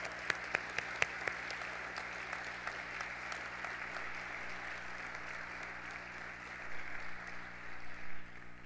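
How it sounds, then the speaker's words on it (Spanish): Audience applause at a Colegio Notre Dame senior-class (IV Medio B) graduation ceremony, 2020; a few sharp, distinct claps open into soft, fairly distant, sustained clapping that swells slightly near the end. "Así es que les brindamos también un fuerte aplauso."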